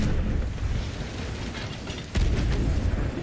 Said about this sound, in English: I hit front with a cannon.